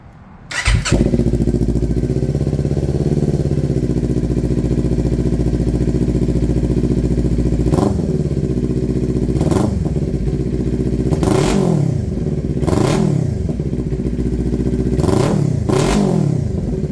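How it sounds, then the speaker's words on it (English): A 2022 Kawasaki Ninja 400 with a loud, deep aftermarket exhaust fires up and idles with a heavy rumble, then gets revved sharply several times, each blip rising and falling. "As you guys heard that aggressive exhaust sound from the bike, it sounds pretty menacing."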